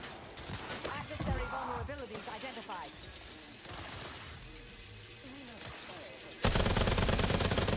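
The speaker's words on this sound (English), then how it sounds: "Minigun." A minigun in the video game The Outer Worlds fires in bursts of rapid rattling shots, louder and denser near the end, while someone talks over the gunfire.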